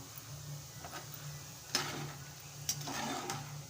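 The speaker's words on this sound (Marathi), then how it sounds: "आता भाजके डाळ आहेत ते छान तळून घ्यायचे आहेत" Roasted chana dal fries in oil for a poha chivda, a soft sizzle with a few sharp scraping clicks of stirring at intervals, fairly quiet and close, without speech.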